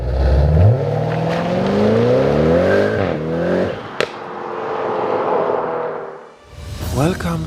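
A 1000 hp Audi RS6 GT engine revs hard and close, rising repeatedly in loud climbing sweeps, then drops to a brief lull before another strong rev near the end.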